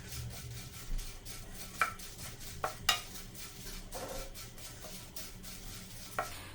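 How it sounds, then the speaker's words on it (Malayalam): Poha (flattened rice) dry-roasting in a pan over a low flame, a faint dry rustle with scattered spatula clinks and scrapes against the pan, spread through the whole stretch with no talking. "ഇനി നമുക്ക് സ്റ്റൗ കത്തിച്ച് ചെറിയ തീയിൽ ഏകദേശം അഞ്ചാറ് മിനിറ്റ് ഒന്ന് വറുത്തെടുക്കാം"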